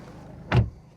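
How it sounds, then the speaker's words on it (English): A single solid thud of a 2016 BMW 320d M Sport door swinging shut, close and fairly loud against a quiet background. "Let's shut this door, keep the noise out here."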